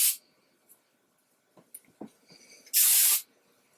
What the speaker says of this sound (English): do a little bit of spray there